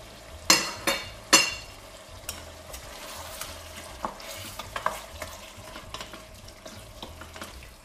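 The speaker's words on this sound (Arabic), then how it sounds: "نحط كعبات الطماطم اللي عندي، طماطم الكعب، طماطم فخيش" Diced fresh tomatoes tossed into a hot pot with onions for an okra ragout, a few loud clattering stirs up front, then a steady soft sizzle with light scraping and occasional clinks.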